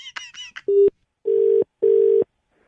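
A telephone rings in three long, loud buzzing tones after a brief burst of electronic beeps.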